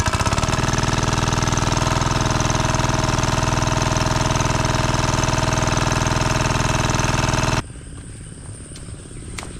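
A small engine-driven water pump runs loudly and steadily nearby, a constant throbbing drone that cuts off abruptly near the end, leaving quiet ambience.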